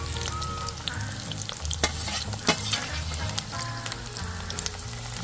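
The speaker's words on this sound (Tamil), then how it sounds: "இஞ்சியும் பூண்டும் போடுறேன் இதுவும் நல்லா வதங்கணும்" Ginger and garlic sauté in hot oil for a pirandai (adamant creeper) pickle, a steady close sizzle with a spoon scraping and clinking against the pan in irregular strokes.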